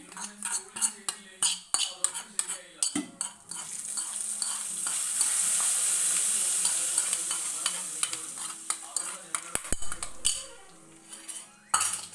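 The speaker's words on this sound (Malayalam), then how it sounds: "മത്തങ്ങ കറിക്കകത്തോട്ട് ഞാൻ കടുക് വറുത്തത് ചേർത്ത് കൊടുക്കുവാണേ" Fried mustard seed tempering is stirred into a pot of pumpkin curry, with a brief burst of sizzling amid repeated metal spoon scrapes and clinks against the pan, close and moderately loud.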